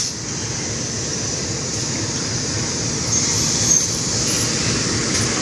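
Local Merak–Rangkas passenger train standing at Rangkasbitung station, a steady low rumble of idling diesel and platform ambience, fairly close and continuous with a brief swell near the end.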